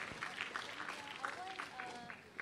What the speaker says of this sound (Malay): Kita berikan tepukan untuk Ustazah Nur Hafizah Musa.